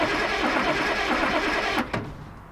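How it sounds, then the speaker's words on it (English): A Triumph GT6 engine cranking on its starter motor, sparked directly at the starter, with a loud, continuous churning whir that cuts off sharply near the end, leaving a faint fading hum. "it's just sparking over the starter motor and seeing what happens"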